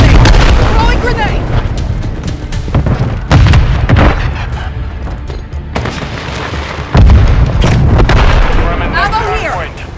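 Grenade blasts in the online shooter Call of Duty Modern Warfare 3, loud booming hits that repeat amid constant battlefield gunfire and chatter, dense and close throughout.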